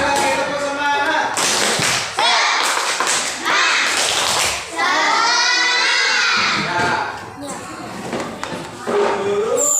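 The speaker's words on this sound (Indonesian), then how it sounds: "Sekali lagi tepuk semangat." Schoolchildren repeat the 'tepuk semangat' spirit clap in a classroom, bursts of rhythmic handclaps and taps woven through loud group chanting and shouting, close and lively throughout.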